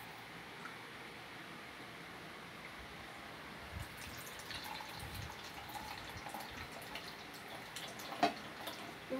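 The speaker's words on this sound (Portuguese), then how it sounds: "Só jogar água." Water pours and trickles into a Pythagorean cup during a school experiment, a soft steady splashing that grows busier toward the end, with a few louder drips near the close.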